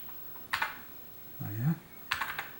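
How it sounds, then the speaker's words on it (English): Keys tapped on the built-in keyboard of a Commodore SX-64 portable computer during a keyboard test, heard as two short clustered bursts of close clicks separated by a brief low murmur. "keyboard test I guess is probably a good idea."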